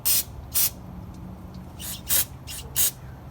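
Short bursts from an aerosol can, brake cleaner or engine degreaser, hiss onto the intake manifold of a 1964 Chevrolet C10 engine. Five or six close spritzes come at uneven intervals, with no talking.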